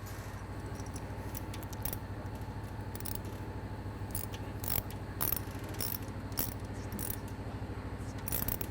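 An 8mm socket on a ratchet clicks repeatedly while removing a grease insert from a RZR ball joint, a quiet, close series of irregular metallic ratcheting ticks over a low background hum.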